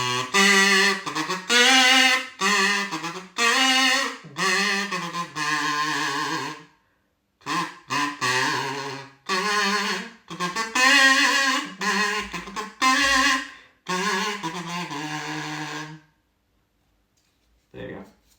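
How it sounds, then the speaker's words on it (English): A cheap kazoo bought for about eight pounds from Amazon is hummed through in buzzy, nasal phrases with sliding pitches and short pauses between runs, fairly close and fading out near the end. "It's the sound of my 8-pound kazoo off Amazon."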